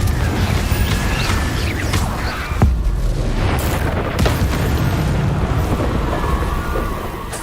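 Confringo fire spell blasts in Hogwarts Legacy, a dense rumbling roar throughout with a sharp booming impact near the middle, loud and close, no talking.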